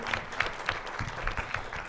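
Applause from an audience at a talk on information management in social conflict, welcoming a television channel director from Cochabamba; steady clapping fills the short moment at moderate level.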